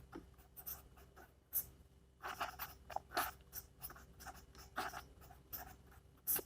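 Pen or chalk writing numbers during a maths lesson, with quiet, close scratching strokes in irregular bursts and short pauses, and no talking.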